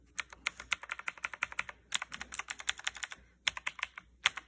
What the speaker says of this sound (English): how does this click work? You see, in a Cherry Blue switch, also known as a click jacket clicker